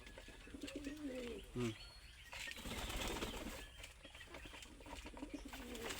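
Giribaz pigeons in a loft give soft, low coos, and a brief flurry of wing flapping sounds close by over a steady background hiss.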